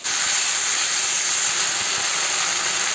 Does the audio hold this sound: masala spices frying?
yes